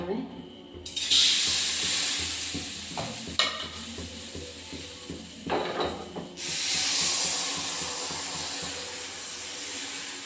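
Wheat dosa batter hits a hot oiled pan, and a loud, steady sizzle and hiss begins at once. Scraping and stirring noises cut in partway through, then the frying hiss swells again and keeps going.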